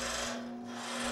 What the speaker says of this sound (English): Now with the spindle gouge, I'm starting to shape the outside form, blending that in.